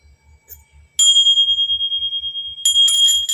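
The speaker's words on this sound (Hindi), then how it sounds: "टूट गई है घंटी मेरी।" A small hand bell at a home prayer rings close and loud, a steady ringing tone with rapid repeated strikes for about two seconds, then a brighter clash of rings at the end, no talk.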